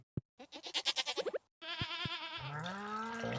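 Goats bleat in a farming video game, opening with a click and then a rapid series of short wavering bleats. After a short pause comes a longer, drawn-out bleat layered with a sustained tone.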